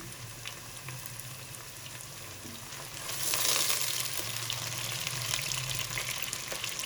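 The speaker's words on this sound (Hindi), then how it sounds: "इतना फ्राई करेंगे इस पे चिकन पे लाइट गोल्डन कलर आ जाए" Steady frying sizzle from a pot of chicken for chicken pulao, a continuous crackling hiss that swells slightly louder midway, with faint stirring clinks.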